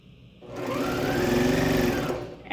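A sewing machine stitches quilting fabric strips together with a quarter-inch seam, a short loud burst of rapid whirring stitches that starts and stops within about two seconds.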